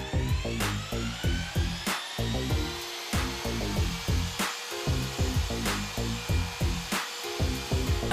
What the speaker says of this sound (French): Ensuite, mélangez une nouvelle fois la colle.